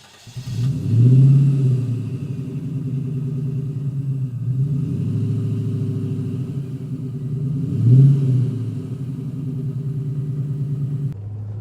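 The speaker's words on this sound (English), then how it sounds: "V8 is burbling along." TVR Chimaera V8 engine burbling while driving, a deep throbbing rumble from inside the car that swells twice under throttle and settles back to a steady low drone, with no talk over it.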